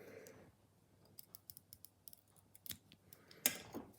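Scissors snipping away waste thread while tying a fly with red holographic tinsel, a quiet close series of sharp clicks and snips, ending in one louder snip and a short rustle.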